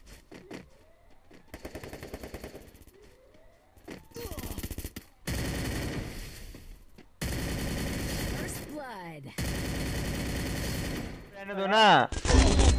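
Gunfire in the mobile battle royale game Free Fire crackles in repeated rapid bursts and single shots, fairly loud, while a player talks excitedly over the shooting.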